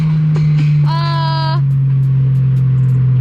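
BMW E46 car driving fast on a highway, a steady low drone of engine and road noise throughout, with a brief higher whine midway, loud and close from inside the cabin.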